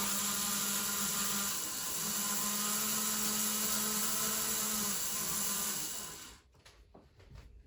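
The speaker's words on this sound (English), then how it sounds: "Take the Duster for a spin around." A Duster slot car with twin magnets whines steadily around the track for about six seconds, its motor tone shifting slightly through the curves before cutting out, leaving a few faint clicks.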